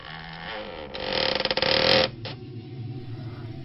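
Door creaking open with a rising, rasping groan that swells for about a second, stutters, then stops abruptly with a faint clunk, quiet and close in an otherwise still room.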